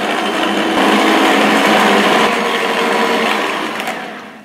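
Cake batter for a New Year's vasilopita being mixed with cinnamon, clove, vanilla and zest, a steady loud electric mixer whir running continuously and fading slightly at the end, with no talk.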